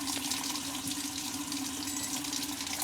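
Water trickles steadily from a faucet during RV unwinterizing, one tap set to cold and the other to warm, producing a thin, continuous hiss at low level with no talking.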